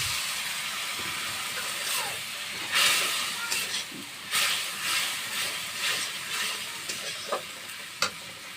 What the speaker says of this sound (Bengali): মশলা বাটি ধোয়া জলটা দিয়ে দিচ্ছি